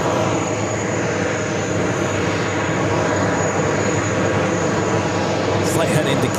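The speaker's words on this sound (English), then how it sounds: "JetBlue A320, the updated Jets livery" A JetBlue Airbus A320 in the updated Jets livery at JFK, its engine roar steady and loud throughout, with a brief higher hiss near the end.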